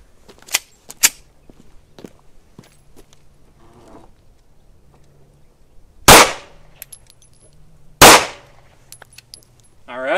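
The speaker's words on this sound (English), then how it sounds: "Two rounds of 115 grain plus P plus jacketed, fully jacketed hollow points out of this Tara TM9X from Montenegro." Two sharp, loud 9mm pistol shots from a Taurus TM9X firing fully jacketed hollow point rounds crack about two seconds apart on an outdoor range. Faint clicks and handling noises come before them.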